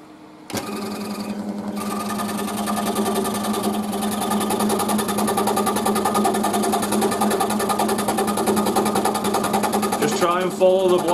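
A scroll saw set to slow speed makes its first cut, its blade chattering in a steady, fast reciprocating buzz that starts abruptly and runs loud and close for about ten seconds before easing off near the end.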